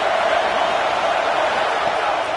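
Steady, dense roar of a stadium crowd cheering on third down at a Texas A&M at Colorado college football game, sustained and even without breaks.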